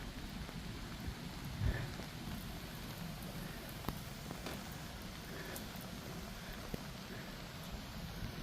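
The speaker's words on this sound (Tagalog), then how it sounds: "Kaya parang lumalakas na naman, oh. Ang ulan." Rain falls at Barr Lake State Park in Colorado as a faint, steady patter under an open outdoor hush, broken by a single soft thump and a few scattered drips.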